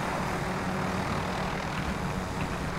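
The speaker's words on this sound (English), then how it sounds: "I can get my chopper and dip." A helicopter in a multiplayer shooter video game flies with a steady, loud rotor and engine roar that fills the whole stretch without pause.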